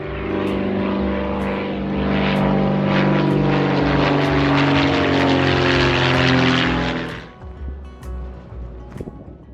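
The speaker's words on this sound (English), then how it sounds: "Local airplanes doing flyovers." Small local propeller airplane flying over a desert former Army training camp in Arizona, a loud steady engine drone lasting several seconds before fading away, with no talking.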